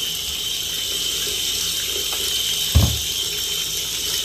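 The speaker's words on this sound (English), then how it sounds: "He likes to take a shower." A shower runs in a bathroom while a dog is bathed, a steady hiss of spraying water with a brief dull thump of movement near the middle, and no voices.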